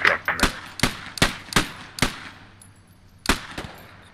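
A BAR automatic rifle fires in the World War II shooter game Post Scriptum, a sharp close series of single and paired cracks at uneven intervals with short echoing tails, then a pause before one last shot.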